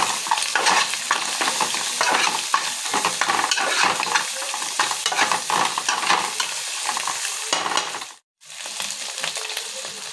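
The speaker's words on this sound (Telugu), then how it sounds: "అల్లం పేస్ట్ వేసుకోవాలి అల్లం కలిసేలాగా కలుపుకోవాలి" Egg rice frying in a pan as ginger paste is stirred through it, a steady sizzle with repeated scraping strokes of the spoon, broken by a short silent gap near the end.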